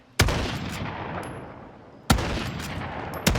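Sniper rifle shots in a zombie-mode video game, three loud sharp cracks spaced about two seconds apart, each trailing into a long rumbling decay against a steady game background.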